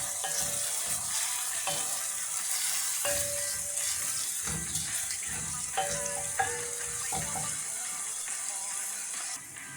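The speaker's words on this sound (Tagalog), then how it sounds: "ihuhulog na natin ang ating sibuyas" Onion for a tuna and green pea pasta sauce sizzles in a pan, a steady close frying hiss with irregular crackles and a few stirring knocks throughout, with no talking.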